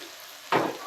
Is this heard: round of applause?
no